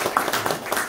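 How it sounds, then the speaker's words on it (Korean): Villagers clapping together in a village community hall, a brief burst of scattered hand claps at moderate loudness. "박수 다시 한번 칩시다"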